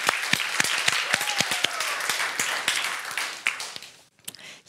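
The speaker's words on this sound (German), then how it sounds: "ein riesen Applaus für euch" Audience applauding presenters called up on stage at a youth hackathon event, brisk sharp claps from a smallish crowd with a few cheers, fading out near the end.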